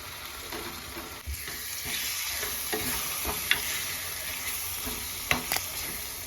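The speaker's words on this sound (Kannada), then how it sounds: "ಶುಂಠಿ ಬೆಳ್ಳುಳ್ಳಿ ಪೇಸ್ಟ್ದು ಹಸಿ ವಾಸನೆ ಹೋಗೋವರೆಗೂ ಇದನ್ನು ನೀಟಾಗಿ 1 ನಿಮಿಷ ಫ್ರೈ ಮಾಡ್ಕೊಂಡಿದ್ದೀನಿ" Ginger garlic paste fries in a pan for mutton keema, a steady close sizzle broken by a few sharp stirring scrapes and spoon taps, with no talking.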